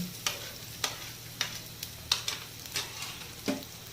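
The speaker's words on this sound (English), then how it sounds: "We will saute it for a couple of seconds, for minimum 30 seconds we will saute it." Garlic sautéing in a hot pan, a soft continuous sizzle broken by repeated scraping stirs of the spoon every half second or so, close and fairly quiet with no voices.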